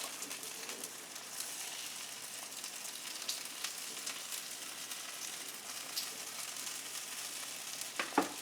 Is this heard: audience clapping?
no